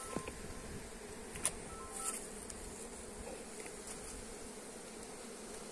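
Bees buzzing steadily during a honey harvest from a wild colony, a dense continuous drone close by with a few individual insects flying past the microphone.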